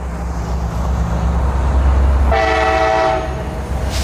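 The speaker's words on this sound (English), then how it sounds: "CSX's corporate office car train" A CSX corporate office car train rolls past close by, a loud steady rumble of wheels and cars, with a sustained multi-tone horn blast sounding for about a second midway before the passing noise continues.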